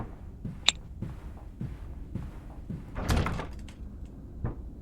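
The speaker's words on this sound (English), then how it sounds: "The heavy door is sealed shut" A heavy door in a horror video game is tried, giving a sharp click, dull thumps and a louder rattling shove, fairly close, with no talk over it.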